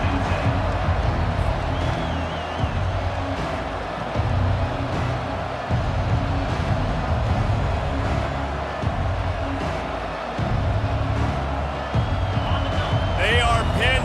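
Stadium crowd roar from a UCF versus Clemson matchup in College Football 25 rolls on steadily as a loud, dense wash of many voices, with a sharper burst of cheering near the end.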